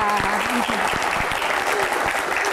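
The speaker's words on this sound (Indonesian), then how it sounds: "Boleh saya minta tepuk tangan yang paling meriah untuk tiga bintang tamu kita" Applause from a seminar audience for three guest stars at a campus Q&A on Indonesia's anti-corruption agency, a steady wash of clapping with some voices mixed in underneath.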